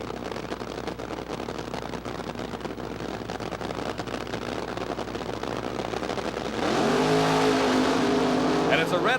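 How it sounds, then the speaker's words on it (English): A 1976 NHRA drag racing car built as a replica of a '76 Monza runs at the Gatornationals in Gainesville, Florida: a continuous loud engine roar that surges louder near the end, under a commentator's talk. "Prudhomme's car, a replica of a 76 Monza"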